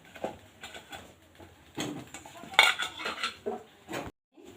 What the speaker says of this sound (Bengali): আমি ওই গরম জলে সবজিগুলো দিয়ে দিলাম